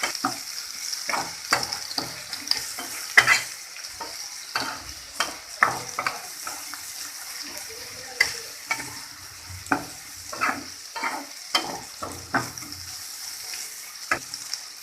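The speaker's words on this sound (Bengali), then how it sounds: "ধনে গুঁড়ো দিয়ে দিব মশলাগুলো একটু কষিয়ে নেবো" Chili and coriander powder spices for prawn dopiaza being stir-fried in a pan, with a steady sizzle and repeated spatula scrapes and clatters at an irregular rhythm, close and moderately loud, with no talking.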